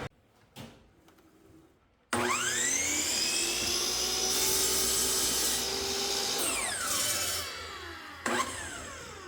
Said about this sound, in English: So I'm just going to use my miter saw.